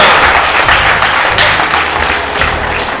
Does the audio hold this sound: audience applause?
yes